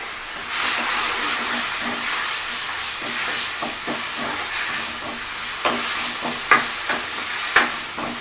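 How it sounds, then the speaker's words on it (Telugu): Tomato crushed by hand fries in hot oil in a pan for rasam, giving a steady, close hiss and sizzle broken by scraping stirs and a few sharp taps near the end, with no voices. "టమాటా 1 నిమిషం జస్ట్ ఆయిల్లో కొంచెం జస్ట్ అలా ఫ్రై అయితే సరిపోతుంది"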